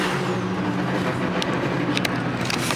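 A steady, loud engine drone and road rumble at a Singapore night car meet, with an EG sedan and an Evo 10 nearby, holding an even note throughout and a few faint higher clicks near the end.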